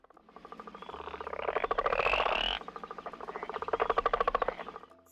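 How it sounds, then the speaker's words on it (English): A frog croaks in a rapid, pulsing rattle, a dense continuous trill that swells, dips briefly and rises again, loud and close with no voices over it. "Frog,"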